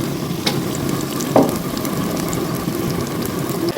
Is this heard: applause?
no